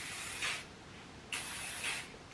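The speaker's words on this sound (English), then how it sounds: "But I literally just douse my hair in hairspray." Hairspray is sprayed onto freshly styled curls in two close, steady bursts of hissing aerosol, each lasting about a second, with a brief pause between them.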